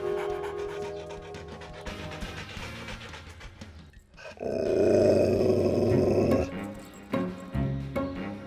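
A dog growls in a dubbed action-film scene, a low rumbling snarl that swells into a loud sustained growl for a couple of seconds, then breaks into shorter rough bursts amid background movie sound.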